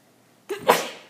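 A single sharp human sneeze, close and loud, with a short intake followed by the burst, alone in a quiet room.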